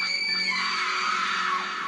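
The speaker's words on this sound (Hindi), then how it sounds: "तभी अचानक से नीचे से किसी के चीखने की आवाज़ आई" A loud, sustained scream rings out as a sound effect in a Hindi horror story set aboard a train, holding steady and shrill for nearly two seconds with no speech over it.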